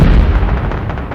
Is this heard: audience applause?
no